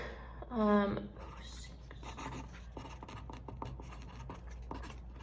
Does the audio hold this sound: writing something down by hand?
yes